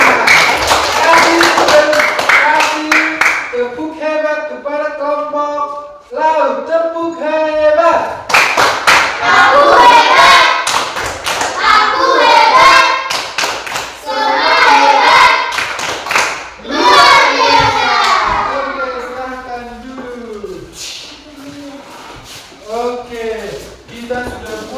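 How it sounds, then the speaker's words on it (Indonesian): Fifth-grade students in a classroom clap in a patterned cheer for the sea group, rhythmic bursts of hand claps and taps alternating with children chanting and talking, close and loud. "Kasih tepuk hebat kepada kelompok laut"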